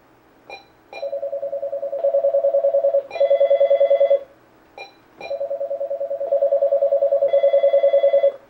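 Telephone on a call-in line ringing in repeated electronic bursts: two short chirps, then long pulsed rings, the pattern repeating twice, clear and close with no talk over it.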